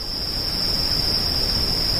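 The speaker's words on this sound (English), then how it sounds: "Why am I hearing crickets?" Steady cricket chirping hums on without pause, a continuous high-pitched trill over soft background noise, with no talking.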